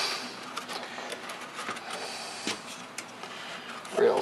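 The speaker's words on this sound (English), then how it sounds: "I'm cutting out the Cadillacs here with my saw" A saw cuts Cadillac car shapes out of plywood scraps for birdhouses, giving a steady, close buzzing drone with small flutters that runs the whole time.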